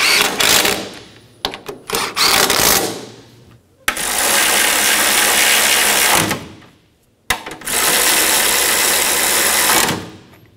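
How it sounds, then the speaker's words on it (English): Nuts snugged down on the throttle body of a 2013-2017 Honda Accord 2.4L make loud, steady mechanical whirring in three sustained bursts with short pauses between them, like a power tool driving the fasteners close up. "Snug the nuts down."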